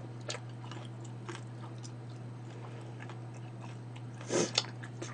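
Close, quiet chewing of oil-fried tteokbokki rice cakes from Tongin Market, with soft bites over a steady low hum and a louder crunchy bite near the end.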